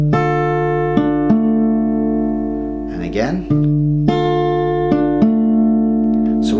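Guitar plays a short riff, single plucked notes and pairs of strings ringing in a steady pattern, close and clear, with a brief spoken phrase in the middle.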